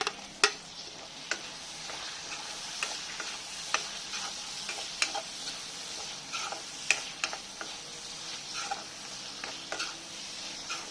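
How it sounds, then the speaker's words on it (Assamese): Chopped tomatoes stirred into garlic and ginger frying over medium-low flame for a chicken curry, with a soft continuous sizzle and frequent sharp spatula taps and scrapes at an irregular rhythm. "এতিয়া ইয়াৰ ওপৰত মই কাটি থোৱা বিলাহীকেইটা দি দিম।"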